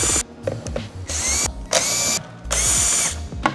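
Power drill or driver unscrewing screws from a battery system part, several short whirring bursts with pauses between them, close and fairly loud.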